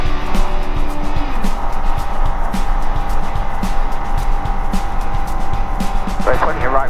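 A Skyranger Nynja microlight aircraft takes off on runway 27 at Ashcroft, its engine droning loud and steady from inside the cockpit with a constant high whine and bumpy rumble, a voice speaking briefly near the end.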